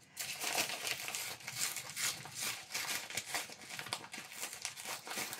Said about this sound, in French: Mince, j'ai déchiré l'enveloppe